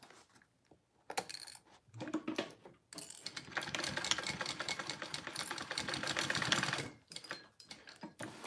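A sewing machine stitches a barrel bag in rapid mechanical bursts: short runs at first, then one long steady stretch of fast stitching, close and fairly loud, with no talk.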